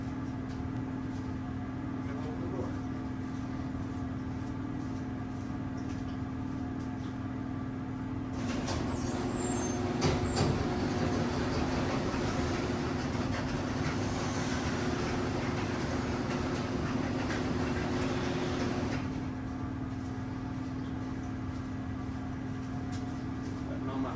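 A Simplicity snowblower engine runs steadily in a shop, giving a continuous mechanical drone that swells louder through the middle stretch as the machine is driven out, then settles back to a steady hum.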